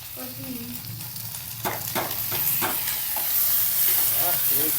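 Whole spices crackling and sizzling in hot oil for a Punjabi tadka, a loud close-up fry with popping bursts and stirring scrapes over a steady hiss.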